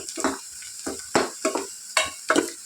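Onions frying in a pan, with stirring scrapes and sizzling bursts coming in an uneven rhythm several times a second, loud and close with no talk.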